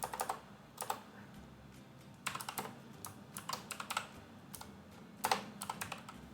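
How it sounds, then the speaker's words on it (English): Bursts of computer keyboard typing, with irregular quick keystroke clusters at moderate closeness and no talking, while entering a short label. "I'm gonna type floral."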